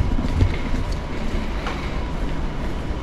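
Singapore MRT train rumbling steadily nearby, a continuous low rail noise with faint clatter and no voices over the three seconds.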